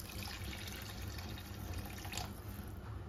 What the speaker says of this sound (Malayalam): പിന്നെ ഞാൻ കുറച്ച് പച്ചവെള്ളം ഒഴിച്ചു കൊടുക്കുന്നുണ്ട്.